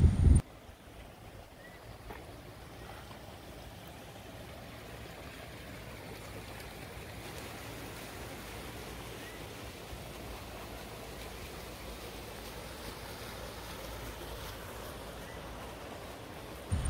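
Steady broadband rush of water flowing from Sogha Lake through pipes near trout farms, continuous and fairly close, with no voices; a brief knock at the start and end.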